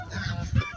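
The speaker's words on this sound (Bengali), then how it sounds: "দেখেন কি সুন্দর রাজহাঁস" A domestic goose honking once or twice in a brief, close, nasal call outdoors in a village setting, lasting under a second with no speech over it.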